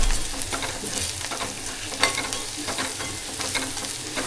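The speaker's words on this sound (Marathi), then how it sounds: "आता याच्यात आहे ना साखर, मीठ आणि हळद पावडर टाकून." Sliced onion sizzles steadily in hot oil in a pan while being stirred with sugar, salt and turmeric for kanda poha, a continuous frying hiss with one sharper scrape near the middle.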